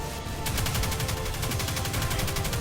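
Rapid automatic submachine gun fire from Destiny 2 rattles out in a fast, continuous burst after a brief quiet start, loud and close, with no talking over it.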